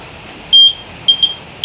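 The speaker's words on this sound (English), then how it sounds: "if you pop it into neutral and you turn the scooter on, you're going to get some beeps." A Go Go Elite mobility scooter switched on while in neutral gives a series of short, high electronic beeps, one longer and then several brief ones, close and clear over quiet background.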